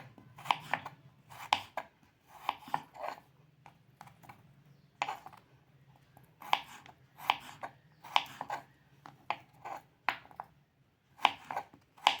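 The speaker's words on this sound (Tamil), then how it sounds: "கேரட் இந்த மாதிரி கட் பண்ணிப்போம்" Repeated knife strokes chopping carrots on a cutting board, sharp crisp taps in irregular bursts, close by, with a low background hum.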